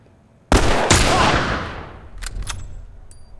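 A single loud hunting rifle shot in The Last of Us cracks sharply, followed by a long echoing tail and a couple of fainter clanks.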